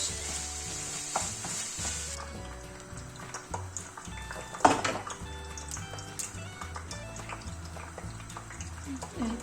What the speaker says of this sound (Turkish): kabaklarımı kızgın yağıma aldım.